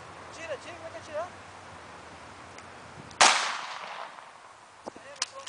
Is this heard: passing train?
no